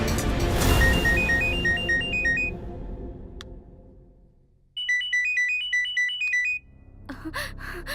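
A phone ringtone plays a repeating electronic melody, stops briefly, then rings again loudly and close, with a rumble of background noise early on.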